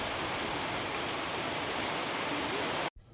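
Heavy rain pours down steadily on a cloudy afternoon, a dense, loud, even hiss of drops hitting surfaces nearby that cuts off abruptly at the end, with no voices.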